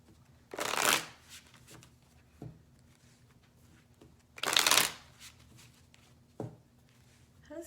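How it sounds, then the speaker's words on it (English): Two quick riffling shuffles of a tarot card deck, each about half a second, separated by quiet pauses and a few soft taps. "I'm gonna shuffle."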